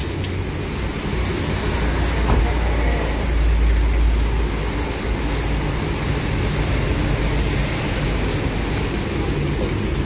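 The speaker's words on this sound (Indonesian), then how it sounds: "Hujan-hujanan Pak Desis." Steady rain falls throughout in Palembang, Indonesia, a constant broadband hiss with a low rumble underneath, loud and unbroken from start to finish.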